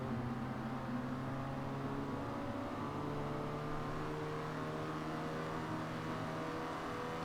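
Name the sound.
Citroen DS 23 car engine driving around test track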